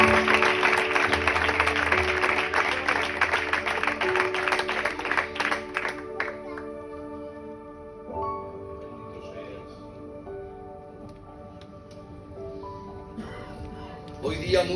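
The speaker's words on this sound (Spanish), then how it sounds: "Un aplauso, por favor." Applause from a church congregation during a Good Friday service in Vallecas, a dense burst of clapping for about six seconds that quickly fades, leaving sustained organ or keyboard tones with faint voices.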